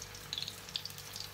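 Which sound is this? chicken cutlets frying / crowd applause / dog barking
chicken cutlets frying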